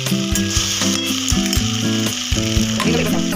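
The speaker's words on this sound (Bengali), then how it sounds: "ঢেলে দিলাম আমি কর্নফ্লাওয়ারটা।" Cornflour slurry poured into a hot, sizzling egg chilli curry, a loud steady sizzle close to the pan under a bed of tonal background music.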